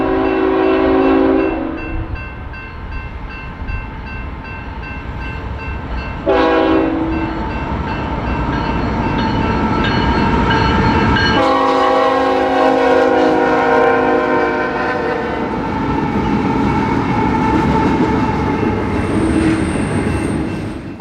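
Eastbound stacked-container intermodal freight train passing a parked manifest in Cedar Rapids, Iowa, loud steady rumble and clatter of cars close by, with short horn blasts near the start and middle and a thin wheel squeal late on.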